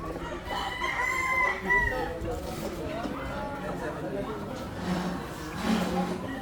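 A rooster crows loudly nearby at a farm expo poultry market, followed by more crowing and clucking from other chickens amid a busy crowd murmur.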